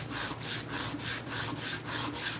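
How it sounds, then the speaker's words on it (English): Hand sanding of a wooden piece during woodworking, a steady rhythmic back-and-forth rasp of roughly eight even strokes, close and alone with no talk. "I'm gonna let my hand sand do that"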